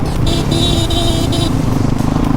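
A modified motorcycle engine revs on an off-road ride, a loud, close, steady drone with rising and falling pitch that stays unbroken for the whole stretch.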